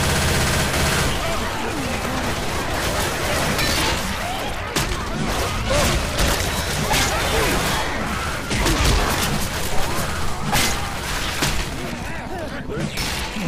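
Dense gunfire in the zombie shooter Left 4 Dead 2, rapid automatic bursts and single shots crackling almost nonstop at close range, with players talking over the din.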